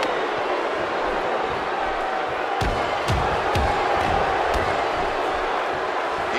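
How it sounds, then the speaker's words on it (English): Arena crowd in the WWE 2K16 wrestling game, NXT Takeover: Japan match between Baron Corbin and Jushin Thunder Liger, a steady loud roar of cheering with a few sharp slams or bangs cutting through midway. "The crowd is buzzing."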